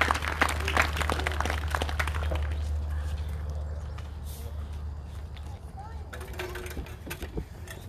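A congregation at a worship service applauds in a burst of clapping that is loudest at first and tapers off after a few seconds, as voices begin talking over the fading claps.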